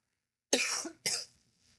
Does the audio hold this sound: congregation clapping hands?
no